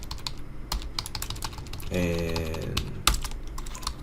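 Someone types quickly on a computer keyboard while working through code. The clicks are close and irregular, with a short held stretch in the middle and a sharp keystroke near the end. A brief spoken word is heard once.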